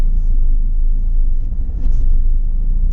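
Maruti Swift Dzire rolling in first gear with no accelerator input, giving a steady low engine and road rumble from inside the car, with a brief dip and swell midway and no talking.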